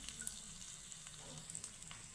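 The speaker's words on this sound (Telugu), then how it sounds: "పప్పు మీద అలా పోపు వేసేయండి" Hot tempering poured over ridge gourd dal gives a faint, soft sizzle with light crackles and brief stirring sounds, quiet throughout and free of talk.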